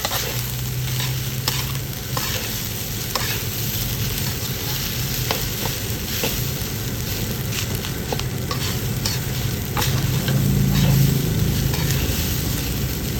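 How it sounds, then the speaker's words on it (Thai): Tomato and carrot being stir-fried in a pan for salmon fried rice, a steady sizzle with scraping and stirring clatter that runs on and swells slightly louder near the end, with no voices. "พอใส่มะเขือเสร็จก็ผัดต่อเลยจ้า"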